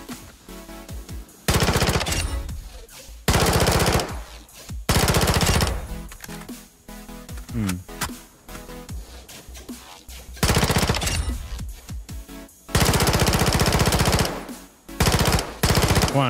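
Repeated loud automatic bursts from a weapon test on a firing range in Warzone 2.0, several sustained volleys of one to two seconds separated by quieter gaps.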